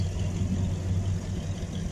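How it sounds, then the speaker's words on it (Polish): A Chevrolet Camaro rolls in at a classic motor parade, its engine giving a steady low, even rumble at moderate distance. "Piękny sprzęt również przyjechał, Camaro"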